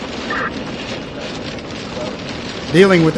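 Heavy rain falls during a storm chase as a dense, steady hiss, and a voice cuts in briefly at the very end.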